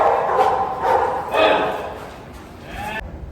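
A Rottweiler growls repeatedly, a low continuous rumble rising and falling in several swells, close and fairly loud, with a voice faintly mixed in.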